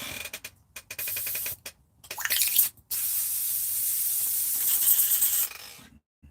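A spray cleaning station used for resin casting cups fires short and longer bursts of spray, sharp hissing blasts broken by abrupt pauses, close and loud with no voices.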